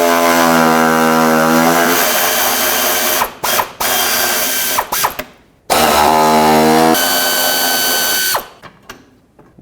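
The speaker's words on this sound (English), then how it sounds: "remove these two and then go to the other side, do the same thing. Use a 10 millimeter." Bumper bolts on a 2007 Chevy Silverado Classic are backed out with a 10 mm socket on a ratchet or impact tool: a loud, close mechanical whirring rattle runs in long bursts, broken by brief pauses and ending in scattered clicks.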